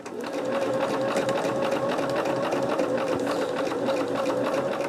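Sewing machine stitching fabric during a Christmas-themed quilting session, running at a steady, continuous whirring hum with rapid rhythmic needle ticks throughout, close and fairly loud.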